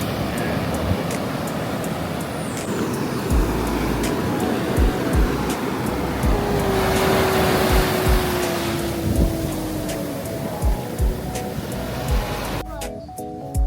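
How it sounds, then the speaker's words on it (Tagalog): Steady wash of surf rolls beneath scattered voices and a passing engine drone, the waves continuous and moderately loud throughout. "relaxing yung place, yung tunog ng alon, nakakawala ng stress."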